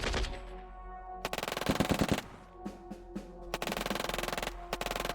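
Gunfire in the strategy video game Shadow Empire during an attack, with rapid machine-gun bursts and sharp shots in several volleys, loud and close, and no talk.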